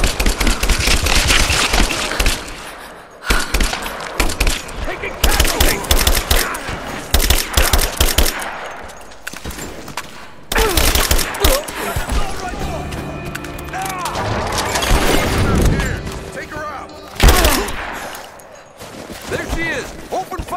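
Dense bursts of automatic gunfire and booming shots in the Rise of the Tomb Raider video game, loud and near, broken by short pauses, with shouted character voices mixed in.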